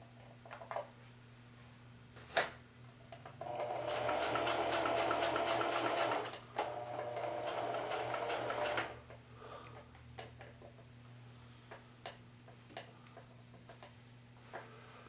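Sewing machine stitching thread onto a quilt yoke runs in two steady whirring spells of several seconds each, with small ticks and clicks around them over a low constant hum.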